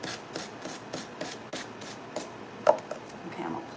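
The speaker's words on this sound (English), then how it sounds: "to sand off the excess napkin. Okay, you just kind of go around and just sand it." A small handheld sander works around the edge of a wooden cutting board, rubbing off excess decoupage napkin in a series of short, regular rasping strokes, close and fairly quiet with no talking.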